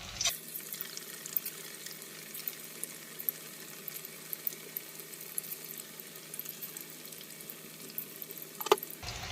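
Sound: chicken pakodi frying in hot oil

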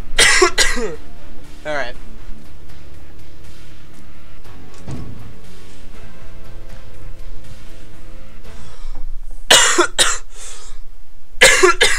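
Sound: coughing

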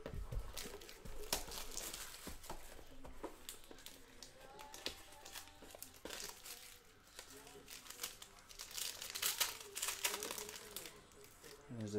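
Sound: opening Panini Contenders Optic basketball card packs, wrappers crinkling

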